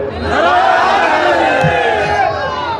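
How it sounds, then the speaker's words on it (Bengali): A crowd at a religious sermon gathering in Gopalganj, Bangladesh, raises a loud, sustained collective shout of voices, continuous and near throughout. "কারা কারা একটু তাকবীর বলেন"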